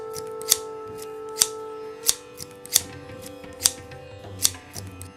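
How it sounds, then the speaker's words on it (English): Metal scissors snip several times in crisp, sharp clicks at an uneven pace, close by, over a steady low hum. "Scissors. Kainchi in Hindi."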